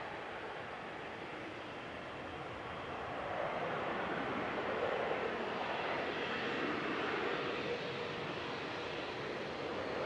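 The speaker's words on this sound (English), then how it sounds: "Air France FHLBR and E190. Heading off to Paris Charles de Gaulle. It's going to be the next departure on 23 left with flight 1169." Air France Embraer E190 jet departing runway 23 left at Manchester Airport, a steady broadband engine roar that swells after a few seconds and holds, sustained and fairly distant.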